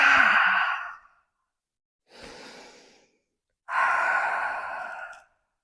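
Breath during a Pilates twist exercise: three audible exhales, two long and strong with a shorter, softer one between, separated by silence, close to the microphone.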